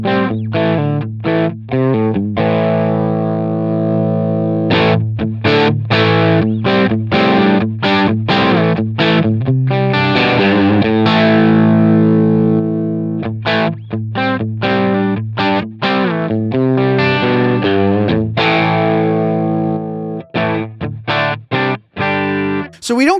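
Electric guitar runs through a Helix amp model with the guitar volume on full, giving a loud, distorted tone with a slight chorus shimmer, a steady stream of chords and picked notes lasting about twenty seconds, close and alone.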